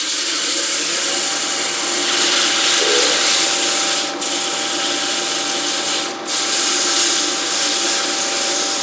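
A wooden bowl on a spinning lathe is sanded with 120-grit paper, giving a loud continuous rushing hiss with a steady motor hum underneath and two brief dips where the paper lifts off, with no talking.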